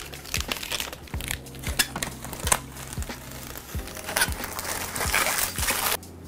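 Protective plastic film being peeled off a Bitspower Titan One 2.0 PC case panel, crinkling and tearing in short bursts with light knocks against the panel, close up.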